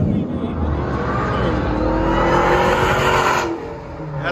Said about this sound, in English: Dodge Challenger Hellcat. Fully straight pipe and valve delete.